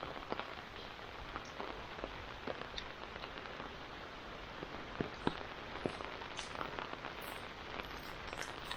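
Rain falling on surfaces during a storm, a soft steady patter with scattered sharper drips and taps throughout, fairly quiet and with no voices.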